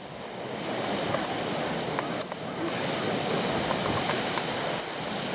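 Strong wind blowing steadily over a lake during a pike fishing outing, a continuous loud rushing roar with gusty buffeting against the microphone and no talk.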